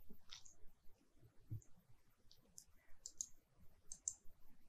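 Mouse clicks on a software button, a few faint, dry clicks scattered across a quiet background.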